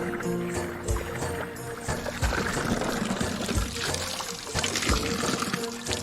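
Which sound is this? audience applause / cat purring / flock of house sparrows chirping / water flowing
water flowing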